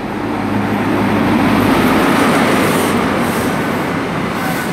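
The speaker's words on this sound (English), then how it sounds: "coming in now is the 1446 Great Western Railway service to Penzance, which originated from London Paddington" Great Western Railway service to Penzance from London Paddington, led by an HST power car, pulling into Taunton station with a loud, continuous rumble of wheels and engine that stays close throughout.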